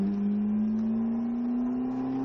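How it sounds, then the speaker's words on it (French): A Ferrari F340 accelerates on a driving course, its engine note rising steadily in a loud, continuous hum heard close up without speech. "Allez, on réaccélère."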